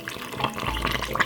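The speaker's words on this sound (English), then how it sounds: "Half glass of water." Water pours steadily into a Ninja blender for a lemon and honey smoothie, a close, continuous splashing trickle with a faint low rumble building partway through.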